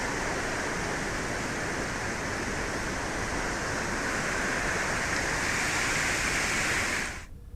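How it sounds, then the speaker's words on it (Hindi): Floodwater about four feet deep pours over a low causeway near a temple after heavy rain, a loud, continuous rushing roar close by that holds steady, then cuts off abruptly at the end. "मंदिर के पहले बने रपटा के ऊपर तकरीबन 4 फीट ऊपर पानी बह रहा है।"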